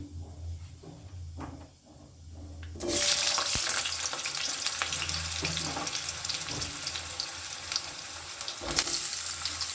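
Cut potatoes hit hot oil with black cumin seeds in a pan for a poppy-seed and drumstick dish, setting off a sudden loud, sustained sizzle that continues with occasional clinks and stirring.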